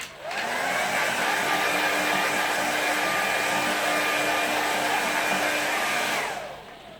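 A hair dryer blowing on watercolour paint, a loud steady close whoosh that runs about six seconds before switching off, no voices.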